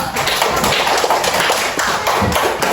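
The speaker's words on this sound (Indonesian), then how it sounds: "Oke, tepuk tangan untuk Tio dulu." Elementary school third-grade classroom of children clapping for a classmate, dense continuous applause that stays loud and steady throughout, close and busy.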